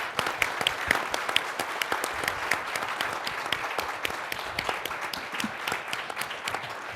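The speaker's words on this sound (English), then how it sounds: "the audience wants to show its appreciation by giving you some applause" Audience at the National Press Club applauding astronauts Kelly and Virts, a dense, steady stretch of close clapping that keeps going evenly from start to finish with no talk over it.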